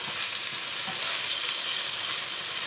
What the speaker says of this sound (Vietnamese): mình chiên ở lửa trung bình thôi